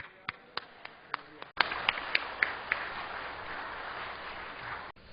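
A congregation in a Korean church breaks into loud sustained applause after a few scattered early claps, and the clapping fills the hall for several seconds before it cuts off.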